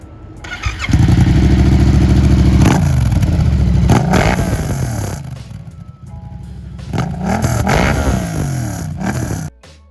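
A Yamaha R7 motorcycle fitted with a Scorpion full-system exhaust starts up close by, settling into a loud throbbing idle with a few sharp revs before cutting off.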